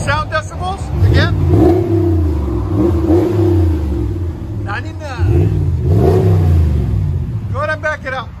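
A 2019 RAM 1500 Laramie with the 5.7L HEMI V8 and a Flowmaster Super 44 dual exhaust with resonators revs repeatedly and loudly up close. Several rising and falling throttle blips sit over a deep, steady idle rumble.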